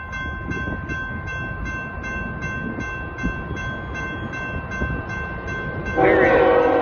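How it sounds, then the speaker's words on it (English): A CSX ethanol freight train heading south rumbles past in a steady roar with rhythmic wheel clicks, and its horn blares loudly and close near the end. "CSX B627 ethanol train coming south"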